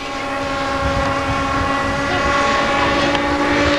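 A model helicopter flown by Oswald Gantenbein at a 1981 model flying meeting in Yverdon drones steadily high above the airfield, a loud sustained engine tone with strong harmonic bands and no talk.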